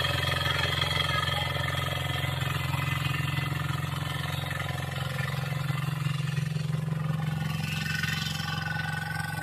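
A small rotary tiller engine runs steadily and loudly throughout in a Konkan paddy field, a low droning hum with a rough mechanical rattle, close by and without pause.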